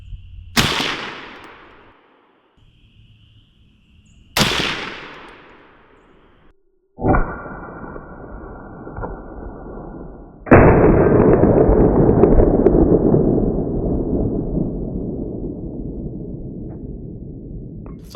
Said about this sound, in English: I took two shots and they were kind of at an angle, so I took a third shot